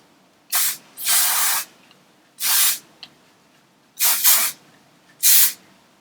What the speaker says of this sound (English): This is a good hairspray because it gives your hair hold and will hold your curls in place